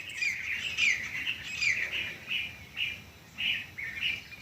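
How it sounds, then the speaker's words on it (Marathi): A common myna calls repeatedly nearby, a series of shrill chirps and whistled notes in an uneven rhythm over a soft outdoor background. "साळुंक्याचा आवाज हा"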